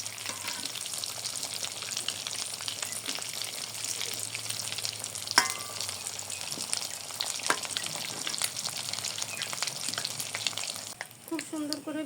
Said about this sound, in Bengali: হালকা ভাজা হয়ে গেছে, এখন উল্টে দিতে হবে।